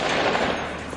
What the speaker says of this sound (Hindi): बाहर गोलियों की आवाजें गूंज रही थी।